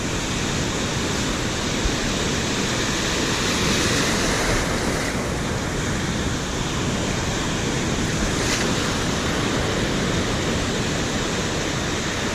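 Ocean surf fills the whole stretch with a loud, steady roar of breaking waves, broad and continuous, with gusts of wind against the microphone and no voices.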